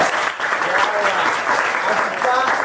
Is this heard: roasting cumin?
no